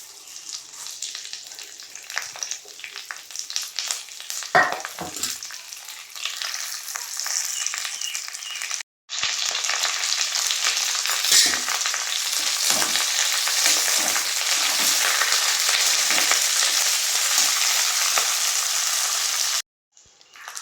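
Curry leaves crackle and sizzle in hot oil in a pan for a green-leaf chutney, a steady loud frying hiss broken by two brief pauses and a few stirring knocks, with no voices.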